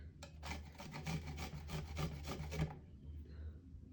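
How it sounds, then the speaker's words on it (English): Garlic cloves grated against a kitchen grater while making a cheesy quesadilla, a quick run of rhythmic rasping strokes up close for about two and a half seconds, then quiet. "we're going to grate 3 to 4 cloves of garlic"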